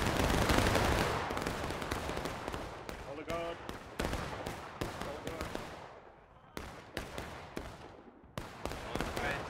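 Black-powder musket fire crackles from a volley in War of Rights during a Civil War battle on a Union flank. Many sharp reports follow one another at irregular intervals, some close and loud and others farther off, mixed with faint background voices.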